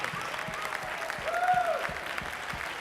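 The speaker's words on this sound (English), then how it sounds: "Give a round of applause" Applause for new executive directors at a marketing company gathering, sounding as a steady, somewhat distant patter of clapping with a brief whistle or cheer rising in the middle.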